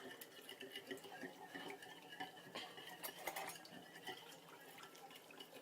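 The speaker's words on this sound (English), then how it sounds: "So now I'm just going to give it a quick whisk." Quick whisking of miso sauce with sriracha in a bowl, with light, irregular clinks and scrapes of the whisk against the bowl, close and fairly quiet, with no voices.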